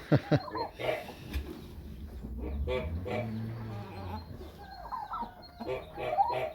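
A turkey hen and a rooster cluck and squawk in a brief noisy scuffle, fairly close, with some faint background chatter among the birds.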